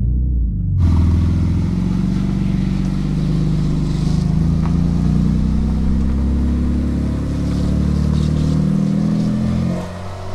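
A Porsche 911 GT2 RS, a 700-horsepower car, accelerates hard through the gears, its loud, sustained engine roar filling the cabin for about ten seconds with no talking over it.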